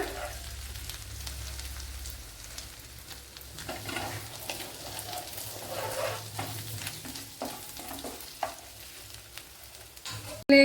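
Crushed garlic and a small piece of crushed ginger sauté in a pan for tomato pasta, crackling and sizzling softly at close range, with intermittent spoon scrapes and clicks and a sharp louder knock at the very end.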